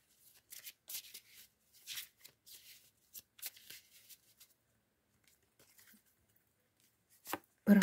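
Lenormand fortune-telling cards being shuffled by hand in a series of short, crisp riffling bursts with brief pauses, close and fairly quiet, ending in a louder thump.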